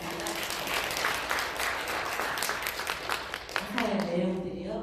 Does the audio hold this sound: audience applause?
yes